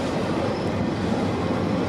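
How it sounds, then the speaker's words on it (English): A CPKC mixed freight train, symbol 118, rumbles past close by in a dense, steady roar of wheels and railcars on the track, with no talk over it. "symbol on this train is CPKC 118"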